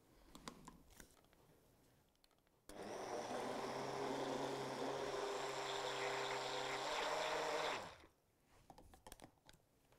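An electric blender runs steadily for about five seconds, blending cream cheese into a puree of roasted peppers in a tall container, loud and close, with quieter handling noises before and after.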